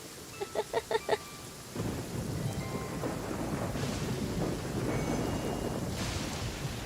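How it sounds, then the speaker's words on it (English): Thunder rumbles and rain pours in a stormy scene from the video game Genshin Impact, with a short run of bright chimes at the start giving way to a steady, loud wash of rain and rolling thunder. "The lightning does not help."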